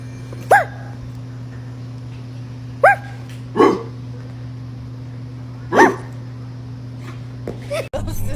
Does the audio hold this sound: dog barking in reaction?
yes